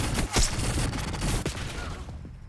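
X52 Resonator weapon in Black Ops 6 firing a few loud, close bursts in quick succession, sharp cracks followed by a fading tail.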